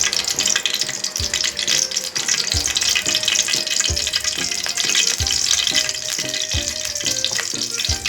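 Ghee heats in a hot pan as a dense, steady crackling sizzle, loud and close, with low soft thumps recurring about every second and a half underneath.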